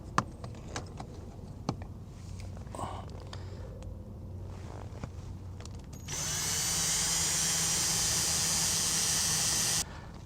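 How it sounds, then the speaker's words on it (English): A power drill bores out a part on a boat, starting after some scattered clicks and handling noises, then whining steadily for about four seconds before stopping. "Actually, I can drill this out here."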